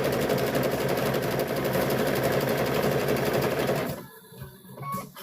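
Sewing machine running a straight stitch along the edge of a quilt binding, a fast, loud, even whirring rattle that stops abruptly near the end, followed by quiet handling noises.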